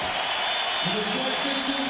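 Nets home crowd in a basketball arena during the 2003 Eastern Conference Finals, a steady roar of cheering and applause that holds loud throughout, with an announcer talking over it.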